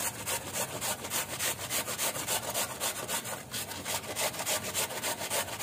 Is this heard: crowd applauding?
no